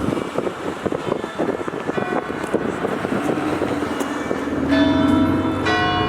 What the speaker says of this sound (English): Just in time for the bells.